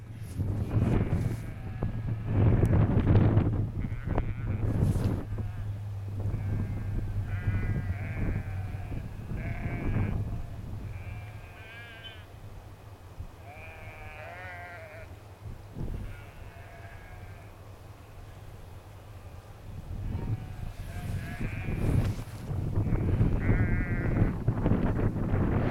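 Sheep bleat repeatedly while following a farmer's machine on a hillside above Patterdale near Ullswater in the Lake District, calls rising and overlapping at mid distance over gusty wind buffeting the microphone.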